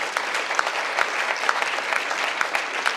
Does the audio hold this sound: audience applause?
yes